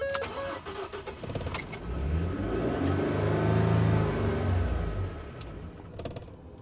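A car engine cranks and catches, surges and revs unevenly for a few seconds, then sags and dies, after a few clicks and clanks nearby.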